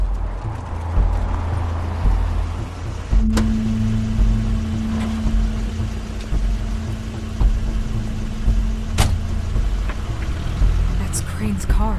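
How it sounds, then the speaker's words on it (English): Crane's car arriving in The Wolf Among Us game, a steady engine hum and rolling rumble with a sustained tonal drone and a couple of sharp clunks, heard close and moderately loud. "Crane's car."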